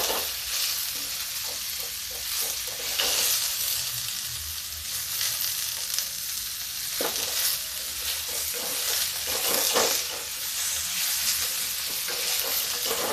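Eggplant cut into sticks sizzles as it fries in a pan, a continuous close hiss broken by repeated scraping stirs, with no voices.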